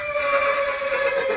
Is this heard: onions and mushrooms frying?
no